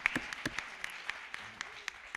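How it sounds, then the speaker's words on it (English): Sparse, quiet clapping from a small audience at an evening community talk in Midland, Michigan, with a few separate claps spaced out unevenly. "Just give her a hand of applause."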